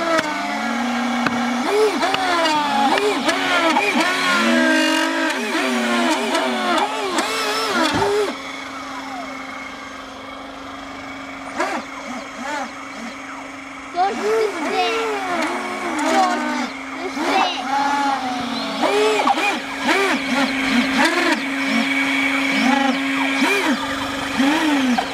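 An Arduino model hovercraft with an MPU-6050 gyro glides over ice. Its motor gives a near, buzzing whine that wavers up and down in pitch as it turns and straightens, dips quieter midway, then resumes strongly.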